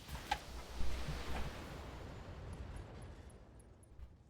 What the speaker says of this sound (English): We got an ammo explosion on him.